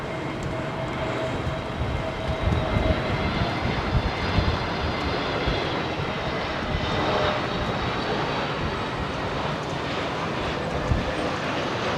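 Jet airliner landing at London Heathrow Airport in windy conditions, a loud sustained roar of engines with a steady whine and gusty rumble heard from nearby, no voices over it.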